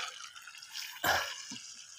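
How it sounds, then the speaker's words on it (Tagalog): Water spilling over while bitter gourd (ampalaya) plants are watered, a steady trickling wash with a brief louder splash in the middle, close and moderate. "umapaw yung tubig"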